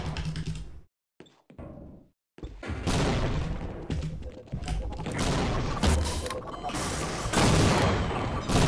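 Security officers blazing away with guns in the shooter game S&I, dense crackling bursts of gunfire that run almost continuously after a brief quiet start, loud and close with some booming hits.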